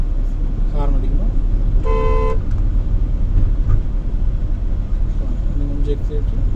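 Car horn on a learner's car during a driving lesson gives one steady honk of about half a second, loud and close over constant engine and road noise, with an instructor talking around it.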